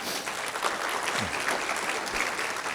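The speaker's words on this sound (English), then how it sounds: "Give him a big round of applause" Business summit attendees give an award finalist a big round of applause, a continuous wash of many hands clapping at moderate distance with no break.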